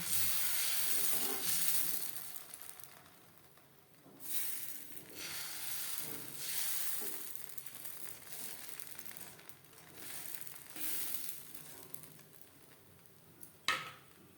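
Pitha batter fries in a nonstick pan over a low-to-medium gas flame, giving a steady, soft sizzle and hiss with occasional crackles, heard alone without talking.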